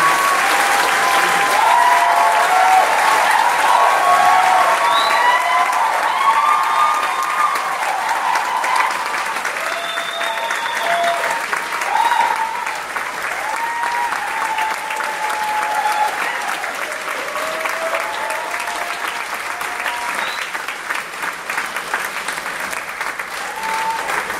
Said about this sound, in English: Please give another round of applause for the talented youth of the Republic of Taiwan.